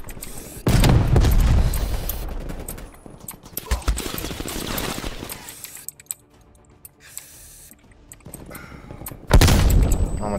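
Grenade explosions in Black Ops Cold War, loud booming blasts, one near the start and another near the end, with rumbling, crackling game noise and scattered shots between them.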